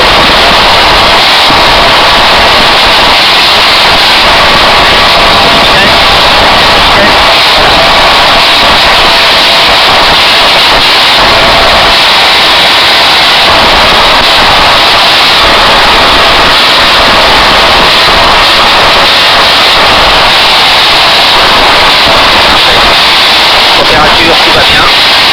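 A Savannah ultralight aircraft engine drones loud and steady from inside the cockpit during takeoff, a constant roar with wind noise that fills the whole clip.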